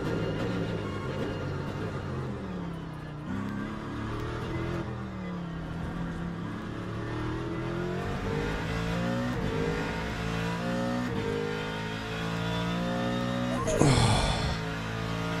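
A Mustang GT3 race car in Le Mans Ultimate, its engine revving up and down through gear changes on track, loud and continuous, with a brief burst of noise near the end.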